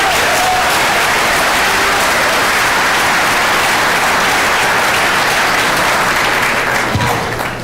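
Loud, sustained applause fills a high school auditorium as an audience thanks the Gallery of Success inductees, a steady dense clapping that continues throughout and tapers slightly at the very end.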